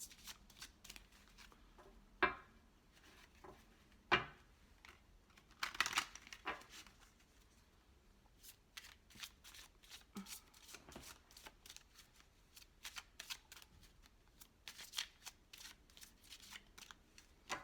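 Romance oracle cards shuffled by hand, soft crisp riffles and flicks in irregular bursts with sharper slaps now and then, quiet and close, no speech.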